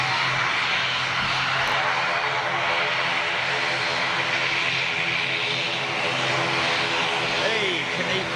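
ATR turboprop airliner on a wet runway, a loud sustained propeller and engine roar with wheel spray, heard from nearby throughout.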